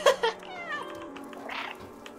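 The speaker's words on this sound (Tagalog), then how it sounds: "Meow. Meow." A cat in the video game Stray gives a few short meows close up, one after another, with a brief pause and a softer call near the end.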